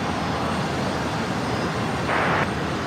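An airliner taking off from runway 01 left at Brisbane Airport, a loud, continuous engine roar that fills the whole span with steady broadband rumble and hiss, close and unbroken.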